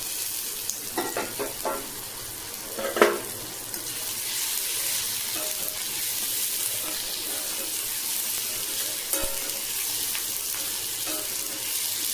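Poppy seeds, black pepper and three cloves sautéing in a pan for egg kuzhambu, a steady hiss of frying with a few utensil scrapes and taps.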